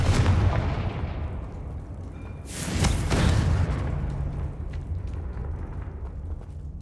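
Confringo blasting curse explosions in Hogwarts Legacy, two heavy booming blasts a couple of seconds apart, loud and near, each trailing into a rumbling decay.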